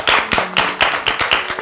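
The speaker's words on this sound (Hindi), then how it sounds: "हमें तो तालियां बजानी ही पड़ेगी" A small group claps in a slow, steady rhythm, about seven close, distinct beats over a couple of seconds, alone without talk.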